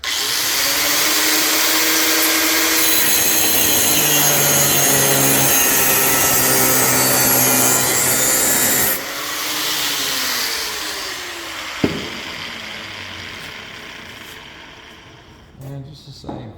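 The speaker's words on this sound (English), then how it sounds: "So let's give the old fiber disc a shot." A power tool fitted with a Bad Dog Tools fiber disc cuts with a loud, steady, close whine, shifting pitch partway through, then spinning down and fading near the end.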